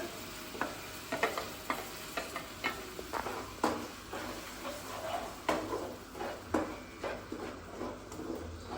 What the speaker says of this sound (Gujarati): પછી આ જે ટોમેટોની પ્યુરી હતી ને એ નાખી દેવાની